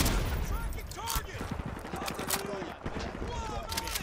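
Gunfire in the video game Call of Duty Modern Warfare 2 Remastered, rapid bursts of automatic shots crackling steadily through the whole stretch, with a voice talking over the battle noise.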